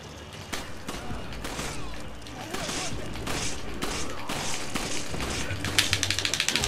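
Gunfire in the Resident Evil 5 video game, heard as repeated sharp shots and clanking mechanical impacts throughout, ending in a quick rhythmic series of bursts under game noise.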